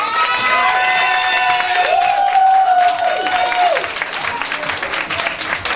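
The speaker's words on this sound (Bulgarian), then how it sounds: "Аплодисменти за мис Милена." Audience applauding and cheering loudly at a Miss Travesti pageant for the former titleholder, a continuous wash of clapping with a few shouts and whistles, fading somewhat toward the end.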